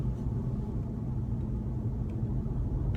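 Steady, low car engine rumble heard from inside a moving car on the road, continuous and fairly loud from start to finish, with no talking.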